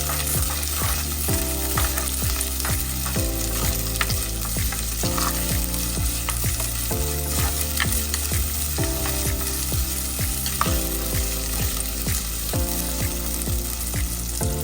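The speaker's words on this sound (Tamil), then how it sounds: "பல் உள்ளியும் கருவேப்பிள்ளையும் எடுத்திருக்கிறேன் அதையும் இதோடு சேர்க்கிறேன்" Garlic and curry leaves fry in a clay pot as a fish curry begins, a steady sizzle that sits under continuous, looping background music throughout.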